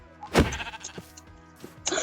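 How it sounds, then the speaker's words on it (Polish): A sheep in the Minecraft video game bleats loudly once near the start, followed by fainter bleats and soft game sounds, with no talking over it. "Tu są owce i krowy."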